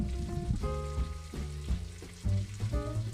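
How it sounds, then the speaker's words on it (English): Bacon sizzles and crackles softly in a pan inside a tiny house, under louder jazz music with clear melodic notes and bass. "Oh man, bacon sizzling and jazz."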